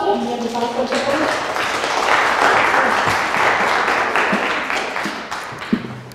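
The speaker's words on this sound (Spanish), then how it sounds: "les pido de favor un aplauso" An audience at an academic lecture on microbial communities applauds to welcome the speaker, giving steady, dense clapping that swells and lasts several seconds with some voices mixed in.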